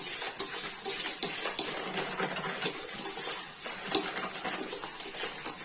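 Fast, continuous beating of a liquid soap paste mixture by hand in a bowl, with a steady rhythm of wet, clattering utensil strokes, close and moderately loud.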